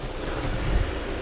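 A steady low car engine rumble, a Volvo V40 running on LPG, runs evenly throughout, close and unbroken, with no talking.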